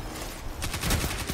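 Rapid gunfire in a competitive shooter video game, rounds hammering a wall in quick repeated cracks that sit on top of a constant noisy background.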